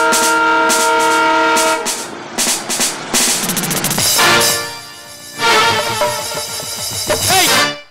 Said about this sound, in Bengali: মামা ট্রেন আসছে না, ট্রেন আসছে